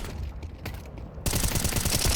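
Rapid bursts of automatic gunfire in a video game erupt suddenly partway through, loud and dense, after a quieter stretch of muffled, scattered noise.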